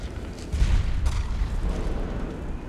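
A petrol bomb bursts in Metal Gear Solid 4: Guns of the Patriots with a deep, rumbling boom, followed by a sustained roar that slowly fades, with no talk over it.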